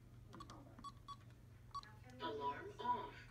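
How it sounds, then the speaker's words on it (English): Several short keypad beeps on a SimpliSafe home alarm as a PIN is entered, spaced irregularly against a low steady hum, followed by a brief spoken electronic voice prompt. "So I put in my PIN code and it said alarm off."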